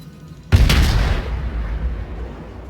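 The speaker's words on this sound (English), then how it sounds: "Big salvo for the Miyogi." A German cruiser in the World of Warships naval game fires a salvo, a single heavy boom with a rolling low rumble that slowly fades, heard alone over faint background.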